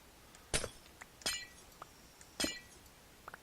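Sharp glass-shattering clinks from breaking glass blocks in modded Minecraft, three distinct breaks spaced about a second apart with a few small ticks between, crisp and close over a quiet background.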